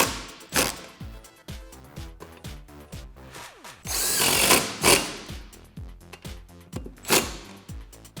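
A power drill tightens the bolts on a seat bracket for a SpeedForm racing seat in a Mustang, in short sharp whirring bursts and ratcheting clicks, with one longer loud spin near the middle, close and loud.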